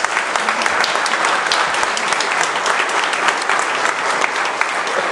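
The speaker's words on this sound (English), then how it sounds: "could I have a round of applause for all of those" Sustained, dense applause from an audience at a county economic development annual meeting, honoring elected officials; steady, loud, even clapping fills the whole stretch with no talk over it.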